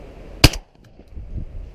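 A single loud shotgun blast while pigeon shooting, a sharp close crack with a brief tail, followed by quiet outdoor rustle and faint low voices.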